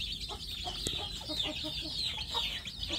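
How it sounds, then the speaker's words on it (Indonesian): Kampung chicken chicks in a rearing box give a steady stream of small, close cheeps and clucks, with several birds calling over one another. "sambil mengamati anak ayam kampung yang ada di box pembesaran ini"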